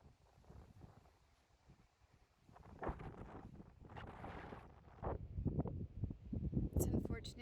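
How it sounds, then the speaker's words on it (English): Strong wind gusting on a mountain path, rumbling into the microphone in rising and falling buffets that grow louder toward the end, with some talking partly mixed in. "It has been really windy all last night, all day today."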